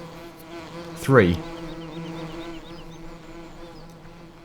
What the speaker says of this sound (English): These are our bees producing honey, and there are the trees which are being pollinated.